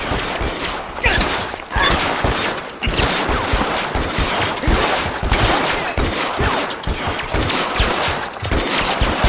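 Heavy, continuous gunfire in the L.A. Noire video game, a loud fusillade of overlapping shots and bursts that runs the whole time with no letup.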